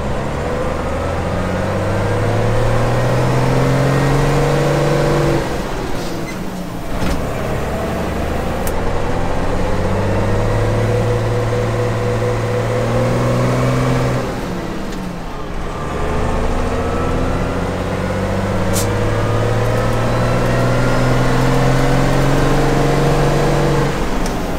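An MBtrac 1100 tractor engine pulls in first gear with all-wheel drive engaged, a steady loud diesel drone with rising and falling harmonic tones, running continuously up close with no talk.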